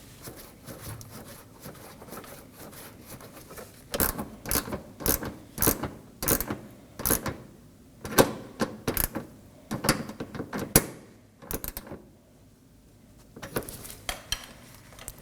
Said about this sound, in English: we can reinstall our corner 10mm bolt